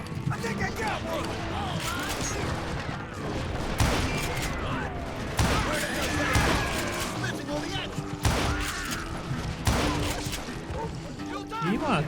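Rapid gunfire from a Call of Juarez shootout crackles nearly nonstop, with dense bursts and crashes over loud, busy game noise and shouted voices.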